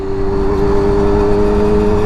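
A motorcycle engine revs with a loud, steady mechanical drone and a sustained tonal hum, held constant and close throughout.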